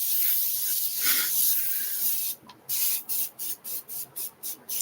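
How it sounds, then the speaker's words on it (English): Carpet deodorant is sprayed from a can: first a long hiss, then about eight short, even bursts in a quick rhythm, close and fairly loud. "I'll put some carpet deodorant down."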